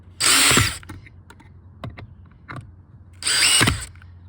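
A power drill drives screws into a DIY camper trailer door. Two loud, short whirring bursts stand close to the listener, separated by quiet clicks and handling noise.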